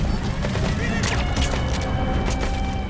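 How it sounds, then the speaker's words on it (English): Grenade blasts and gunfire in Metal Gear Solid V: The Phantom Pain, a few muffled bursts and cracks popping over a busy rumbling battle bed, with some speech mixed in. "they're just chucking these grenades right at me"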